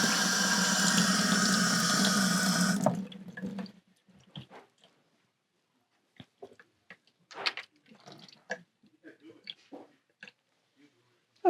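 Water runs from a XERO Pure Plus filter tap into a sample cup in a steady rush for nearly three seconds, then stops, followed by quiet handling clicks and small knocks.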